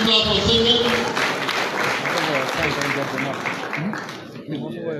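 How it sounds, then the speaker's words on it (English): A crowd at a youth empowerment graduation ceremony claps for a named participant, the applause running beneath voices and other crowd sound, fairly close and steady before thinning toward the end. "please clap for Singlet"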